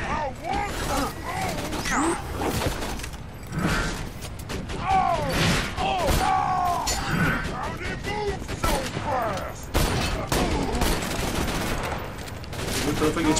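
Gunfire in the video game Borderlands 2: scattered shots and mechanical clatter run through the game mix, with someone talking excitedly over most of it.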